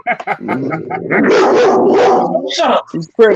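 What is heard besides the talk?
dog barking, a lab pit bull mix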